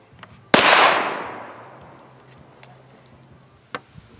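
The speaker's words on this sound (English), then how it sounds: "next up, we're going to try a 1914 artillery 9mm Luger." A single sharp, loud gunshot from a 1914 artillery 9mm Luger pistol fired at a vehicle panel, with a long fading ring afterward, followed by a few faint metallic clinks.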